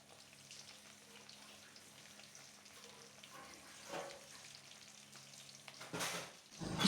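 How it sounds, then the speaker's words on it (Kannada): Fish kebabs frying in a small amount of oil in a pan, with a faint, steady low sizzle, occasional soft stirring, and a brief louder clatter near the end. "ಇನ್ನೊಂದು 5 ನಿಮಿಷ ಹೀಗೆ ಫ್ರೈ ಮಾಡಿದ್ರೆ ಪರ್ಫೆಕ್ಟಾಗಿ ಕಬಾಬ್ ರೆಡಿ ಆಗುತ್ತೆ, ಮೀನು ಕಬಾಬ್."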